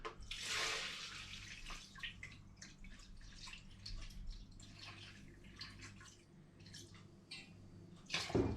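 Liquid poured from a vessel into two measuring jugs while making winter liqueurs, a steady splashing trickle with small drips, quiet and close, ending in a brief louder splash.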